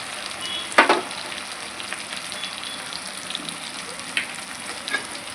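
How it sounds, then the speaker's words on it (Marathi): Dry spices sauté in hot oil for a sprouted green mung bean curry, giving a steady soft sizzle with a sharp spoon clink against the pan near the start and a few lighter knocks later. "मसाले पण छान परतवून घ्यायचे।"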